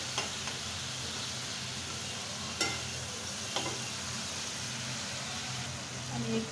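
Shrimp fry in spice paste in a pan with a steady, close sizzle, broken by a few sharp clicks of a utensil against the pan.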